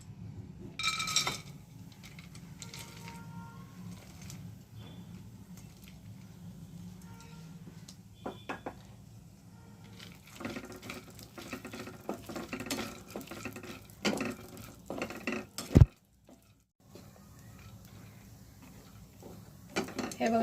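Dry fruits roasting in melted ghee in a pan, soft stirring scrapes and light clinks of a spoon against the metal pan, fairly quiet, with someone talking throughout.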